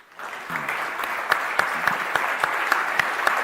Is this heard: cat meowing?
no